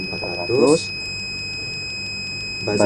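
Buzzer on a gas sensor alarm circuit sounds at the gas threshold with a steady, piercing high tone pulsing in regular quick beats. Brief speech is heard at the start and end.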